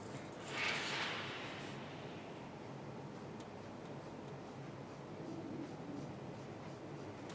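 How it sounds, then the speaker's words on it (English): White pencil hatching across paper while rendering a kitchen drawing, a steady close scratchy scraping that runs continuously, louder at the start and then even, with no talk. "You go in with your white pencil and you hatch."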